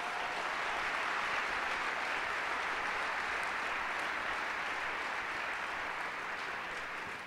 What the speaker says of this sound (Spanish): vamos a darle un fuerte aplauso a Dios por lo que Él hace